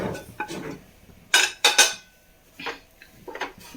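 A few separate clinks and scrapes of a utensil against a bowl while mixing deboned small sardines into a fish chutney, short metallic bursts with quiet gaps between them, close by.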